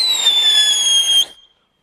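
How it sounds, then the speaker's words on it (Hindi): A peacock firecracker set off during a Holi fireworks test gives a loud, high, steady whistling shriek for about a second before cutting off abruptly into silence. "सीटी बजी गई तो पास में जाऊँगा, पटाखा फूटा दूर रहूँगा।"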